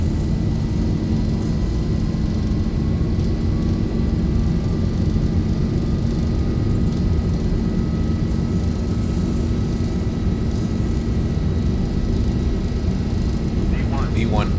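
Boeing 737-800 jet engines at takeoff power on the roll in X-Plane 11, departing Denver, a steady loud roar with a faint whine, continuous, with a voice speaking over it.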